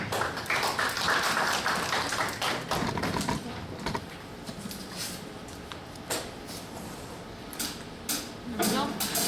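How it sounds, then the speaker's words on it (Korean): A congregation at a church youth worship service gives a round of applause, with scattered sharp hand claps and thumps spread across a reverberant hall, loud at first and then tapering off. "완전하신 주님께 영광의 박수 올려드리겠습니다."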